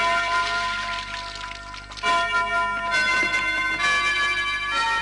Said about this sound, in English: we hear the pealing of bells.